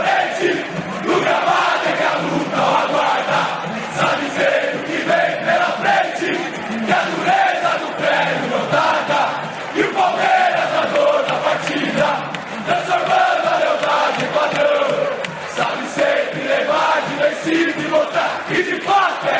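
Palmeiras supporters sing and chant together in a packed football stadium, a loud, continuous roar of massed voices that swells and dips in a rhythmic pattern without a break.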